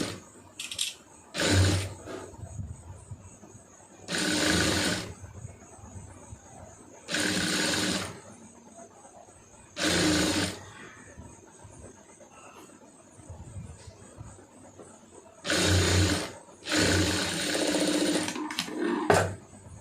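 A sewing machine stitches a folded sleeve seam on a garment in repeated short bursts of fast mechanical whirring, each a couple of seconds long, separated by brief quiet pauses.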